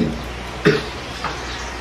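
A single sharp cough sounds close by, followed by a fainter second one, against a low steady background hum.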